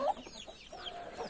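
A young pullet of pretty coloring gives soft, brief clucks and chirps close by, quiet and alone, with a faint rustling background.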